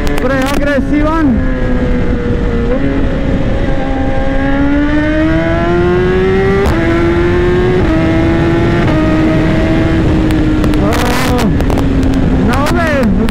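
A 2018 BMW S1000RR superbike, about 200 horsepower, accelerates hard with a loud, close engine note that rises through the revs and steps down briefly at each gear change, then keeps climbing.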